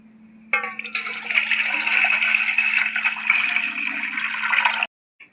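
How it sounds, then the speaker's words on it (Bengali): Okra being washed under running water, a loud steady rush of tap water splashing over the pods for several seconds before it stops sharply, with no talking. "ঢেঁড়সগুলো কিন্তু আমি খুব ভালো করে ধুয়ে নিচ্ছি"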